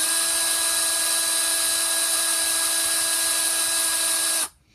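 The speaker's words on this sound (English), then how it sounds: "and just drill it the rest of the way through." A power drill whines steadily as it bores through a multi-purpose three-way fire starter, a loud, constant high tone that runs unbroken for over four seconds and then cuts off abruptly.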